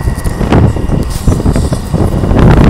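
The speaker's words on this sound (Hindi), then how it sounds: "गर्म लू चल रहा हवा चल रहा है" Hot summer wind buffets and roars across the microphone in continuous loud gusts during extreme heat in Uttar Pradesh, with no voices.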